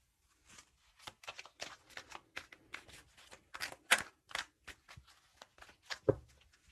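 A deck of tarot cards is shuffled by hand in a quiet room: soft, irregular bursts of riffling and sliding card noise, close and fairly faint, with short pauses between them.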